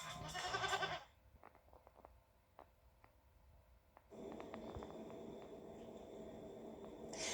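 Goats bleat faintly in a television advertisement, with a short burst of bleating at the start, a quieter gap with scattered small sounds, then more bleating building toward the end.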